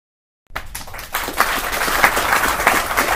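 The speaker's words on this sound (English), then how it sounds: "how about let's do a round of applause for that" A round of applause for reaching a subscriber milestone breaks out after a moment of silence, a dense crowd-like clatter of clapping that grows fuller and stays loud and steady to the end.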